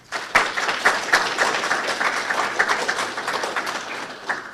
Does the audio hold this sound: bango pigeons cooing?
no